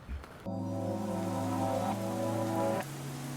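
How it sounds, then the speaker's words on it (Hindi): Heavy monsoon rain pours steadily as an audio story effect, a dense hiss beneath a sustained tonal drone, with no speech. "मॉनसून जोर से आ गया, बारिश जोर से बरस रही थी"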